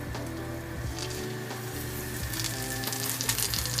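Steady, crackling sizzle of food frying in a hot cast iron pan, continuous and close, with bright spattering pops throughout.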